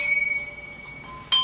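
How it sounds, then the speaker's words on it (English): A notification bell ding sound effect: faint lingering chime tones fade away, then a single bright, sharp ding rings out near the end. "Ding that notification bell."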